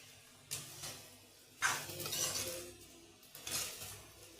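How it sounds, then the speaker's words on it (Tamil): Two eggs are mixed into chilli chapathi batter, giving three short bursts of scraping and clinking from a utensil in a bowl. The sounds are close but fairly quiet, with brief pauses between strokes. "ரெண்டு எக் ஆட் பண்ணிக்கலாம். இப்போ நல்லா மிக்ஸ் பண்ணிக்கணும்."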